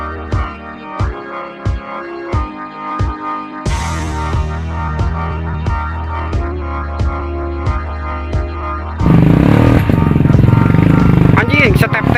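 Motorcycle on a mountain road, its engine note rising and falling in repeated revs, then a louder sustained surge near the end, with people talking over it.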